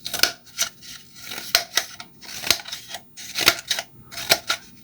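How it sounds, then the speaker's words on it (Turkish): A series of sharp, crisp snips from small spring-loaded scissors on a compact multi-tool, about a dozen quick cuts at an uneven rhythm, close and clear. "Yaylı bir makas var."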